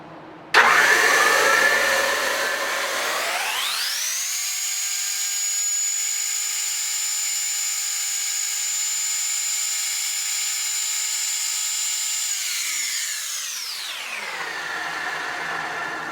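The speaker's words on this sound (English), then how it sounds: "I'm going to grind the angle." A bench grinder or similar power tool grinding the angle on a steel hinge reamer: a motor spins up, holds a steady loud whine for several seconds, then winds down, with no talk.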